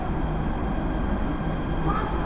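A Jakarta MRT metro train pulls into a station with a steady, loud rumble of wheels and motors that fills the whole moment.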